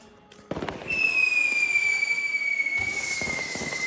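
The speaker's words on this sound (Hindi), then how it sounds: "आसमान में धुआं ही धुआं है, पटाखों की खुशबू ही खुशबू है।" Diwali fireworks and firecrackers go off outdoors: sharp bangs, then a long whistling rocket that slowly falls in pitch, followed by more crackling pops.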